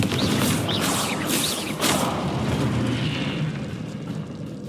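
Confringo blasting spell in Hogwarts Legacy, a loud rumbling explosion with whooshing fiery bursts, a second blast hitting near the two-second mark before the roar slowly fades.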